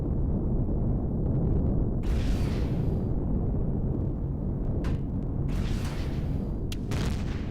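Plasma turrets fire during a space armory fight in Empyrion Galactic Survival. Dense, rumbling weapon blasts roar on without a break, and sharper hissing bursts break through every few seconds. Everything is loud and close, and nobody speaks.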